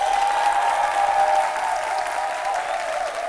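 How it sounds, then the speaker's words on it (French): A studio audience on a live French-language TV midday show applauds steadily and loudly, a dense wash of clapping that stays even throughout and eases slightly at the end. "nous applaudissons très fort"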